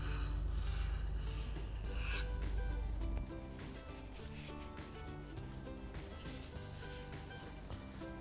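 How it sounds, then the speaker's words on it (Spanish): A cake scraper drags around buttercream frosting on a cake resting on a tray, making a continuous close rubbing and scraping sound over a low steady hum. The sound is moderately quiet. "ahora vamos a empezar a trabajar poco a poco con nuestro scraper"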